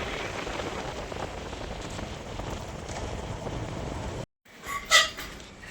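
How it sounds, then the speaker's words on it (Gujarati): Steady rain hisses close by for about four seconds, then cuts out briefly before a softer patter and a short gusty swell return. "છાંટા આવે રાવ."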